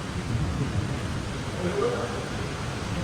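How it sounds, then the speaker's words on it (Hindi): Heavy rain pours down with thunder in Kuala Lumpur, a dense, steady roar with low rumbling swells and a faint voice underneath. "बारिश इतनी तेज़ हो रही है"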